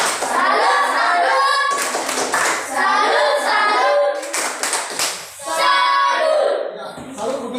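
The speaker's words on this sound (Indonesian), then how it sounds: "Mari kita berikan tepuk tangan untuk sini ya." Schoolchildren in a classroom clapping their hands in bursts of quick, close, loud claps, with short pauses between rounds and children's voices chattering in between.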